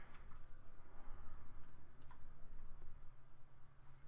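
Steady clicking of keys on a computer keyboard, close and continuous but quiet, with a few sharper taps over faint background hiss and no speech.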